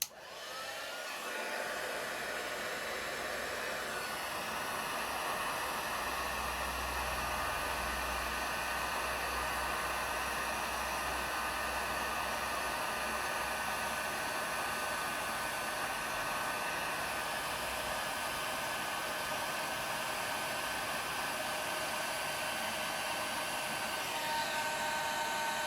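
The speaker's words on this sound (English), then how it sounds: "So I'm going to grab my heat tool" A craft heat tool blows a constant loud whooshing roar while setting an embossed stamped sentiment, running steadily and uninterrupted the whole time with no voices.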